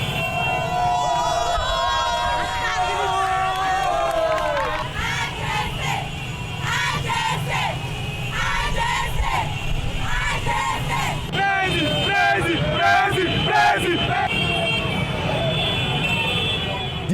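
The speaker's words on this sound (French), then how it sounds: "une foule compacte est massée tout le long du parcours avec des cris de joie au" A dense, compact crowd lining a procession route in Côte d'Ivoire, heard as continuous loud cheering, whistles and cries of joy, with motorbikes and engines mixed into the din and a voice talking over it.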